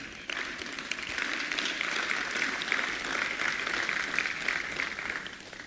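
An audience at a youth entrepreneurship dialogue breaks into applause that starts abruptly and keeps up as a steady wash of many hands clapping for over five seconds.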